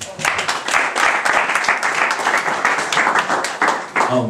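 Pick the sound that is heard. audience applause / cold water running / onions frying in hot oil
audience applause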